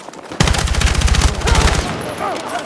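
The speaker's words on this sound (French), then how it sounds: "Ennemis en visuel. On ouvre le feu." Automatic gunfire in the Battlefield 6 video game campaign, a rapid burst of evenly spaced loud shots lasting over a second, followed by ringing echoes and fainter effects, close and punchy.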